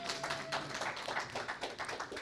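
Office audience at a live event claps hands in a scattered, fairly soft patter of overlapping claps, steady across the moment with no talking.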